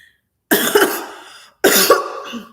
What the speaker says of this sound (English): I know I'm coughing a lot